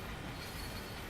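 A train running in the Train Sim World 5 game, a steady dense rumble of wheels on rails with a continuous roar and faint squeal, close and unbroken.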